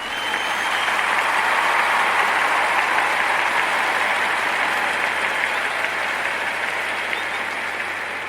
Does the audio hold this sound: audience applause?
yes